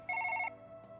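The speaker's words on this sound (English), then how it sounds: "I'm gonna ignore the phone call and do this." A phone rings in the Surgeon Simulator video game, a quick electronic trill of about five rapid pulses in one short burst, clear and fairly faint, followed by quiet tone.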